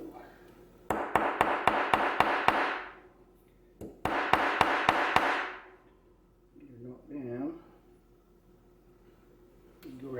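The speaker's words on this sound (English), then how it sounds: "Go around and try to peen that little dude" Hammer peening the pivot pin of a folding pocket knife on a masonite-topped surface, two close bursts of quick sharp metallic taps with ringing tails, followed by someone talking briefly.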